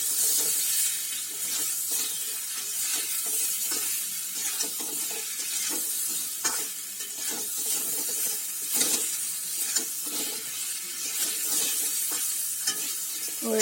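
Raw banana and potato pieces seasoned with turmeric and salt being stirred in hot oil, a steady close sizzle broken by repeated scraping and stirring strokes of the spatula against the pan.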